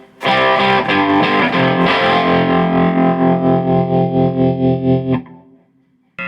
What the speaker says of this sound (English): we'll bring some tremolo in